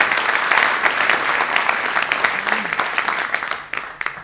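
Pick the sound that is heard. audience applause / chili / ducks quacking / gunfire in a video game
audience applause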